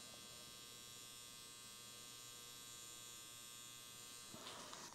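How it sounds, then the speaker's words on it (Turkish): A DragonHawk X8 RPM-adjustable tattoo machine running steadily, giving a continuous, faint, even electric buzz with a fine whine, alone and without talk, ending with a brief handling noise. "Makine şu anda tahminimden iyi işledi."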